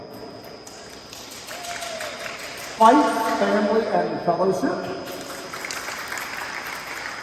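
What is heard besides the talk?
applause at sports awards banquet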